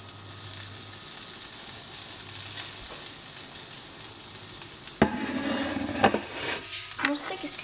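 Steak frying in a pan: a steady, quiet sizzle runs throughout, then grows busier toward the end as clanks and scraping stirs of a utensil against the pan come in, close by.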